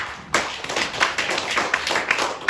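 Church congregation clapping together, a dense burst of many hands that starts abruptly and continues in uneven, rhythmic waves, fairly loud and close with no voices on top.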